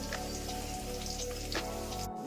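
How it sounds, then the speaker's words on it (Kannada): Urad dal and dry red chillies fry in hot oil, a steady close crackling sizzle that runs without pause, with a faint bump near the end. "ಅದಕ್ಕೆ ಎಲ್ಲ ಒಂದೊಂದೇ ಸಪ್ರೇಟಾಗಿ ಫ್ರೈ ಮಾಡ್ಕೊತಾ ಇದ್ದೀನಿ"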